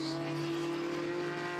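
A race car on the Circuit Zolder track during a Supercar Challenge race gives a strong, steady engine tone, loud and sustained through the brief moment, with no voice over it.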